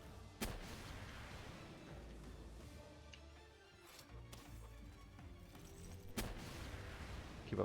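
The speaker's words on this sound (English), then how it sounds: "The rocket launcher stun's so good. Gotta be careful not to shoot that." Explosive rocket launcher blasts from the video game Palworld, with a sharp loud shot near the start and another heavy burst near the end over a busy, rumbling game soundscape.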